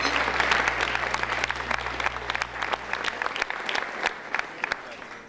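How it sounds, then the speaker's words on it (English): An indoor crowd at a community volunteer awards evening claps loudly and continuously, a dense wash of applause that eases slightly toward the end. "So can we have a round of applause for them?"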